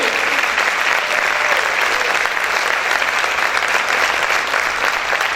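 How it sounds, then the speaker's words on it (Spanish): Church congregation applauding loudly during a worship service, a steady, dense wash of clapping that holds at full strength throughout with no pauses. "Aplaude a tu Dios, aplaude a tu Rey."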